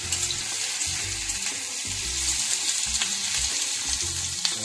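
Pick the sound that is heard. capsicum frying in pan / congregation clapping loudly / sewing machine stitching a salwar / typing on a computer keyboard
capsicum frying in pan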